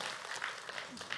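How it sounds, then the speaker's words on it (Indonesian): An audience at an Islamic religious talk program breaks into steady, dense applause that fills the whole stretch, close and even throughout with no speech over it. "tepuk tangannya dong"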